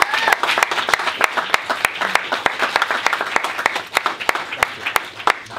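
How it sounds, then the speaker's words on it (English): A workshop audience gives a public speaker a round of applause, with sharp individual claps spread through a steady patter that holds at moderate loudness for several seconds. "Please a warm applause for Francesco."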